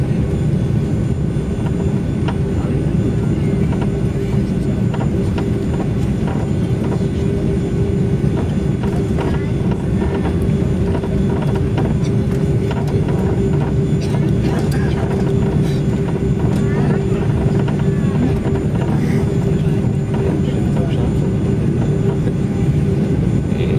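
A Lufthansa Airbus A340-600 jet takes off from runway 18 at Frankfurt am Main Airport, a steady loud engine roar with broadband rumble that holds constant throughout, with faint mechanical clatter underneath.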